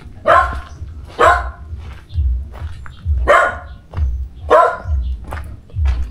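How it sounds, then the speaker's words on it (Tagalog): A dog barks repeatedly nearby, sharp loud barks spaced about a second apart over a low rumbling background. "pumapagot yung aso, guys."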